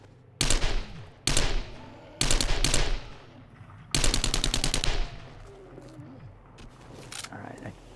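Gunfire in the video game 7 Days to Die comes in four loud, rapid automatic bursts separated by short pauses, followed by a quieter tail with faint game sounds.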